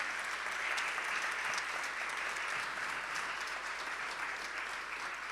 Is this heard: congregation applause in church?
yes